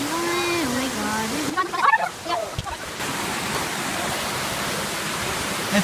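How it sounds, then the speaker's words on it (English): A tropical waterfall in the bush runs as steady broadband rushing water across the whole clip, with a voice talking over the first part before the water continues alone. "this is a tropical waterfall"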